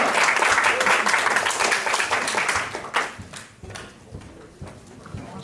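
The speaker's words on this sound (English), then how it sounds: "a round of applause for Joe" A magic show audience claps and cheers for a volunteer called up on stage, loud dense applause that thins out into scattered claps, with a voice speaking over it.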